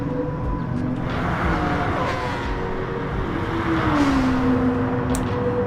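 A GT Sport race car engine drones steadily and loudly throughout, its pitch sliding upward as it revs, with a constant wash of road and wind noise.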